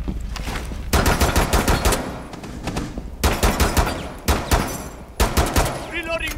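Rapid bursts of automatic gunfire in the tactical shooter Rainbow Six Siege, loud and close, with repeated volleys separated by short pauses and faint in-game electronic tones near the end.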